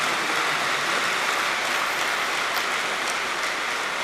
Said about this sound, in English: So you should clap for that.